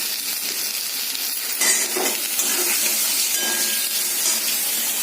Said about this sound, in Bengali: আলুটা ভাজা হয়ে গেছে, এবার বেগুনগুলো দিয়ে দেবো।